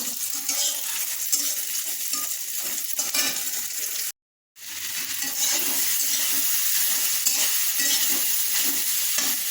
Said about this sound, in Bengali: কলমি শাকটা ভেজে নিচ্ছি।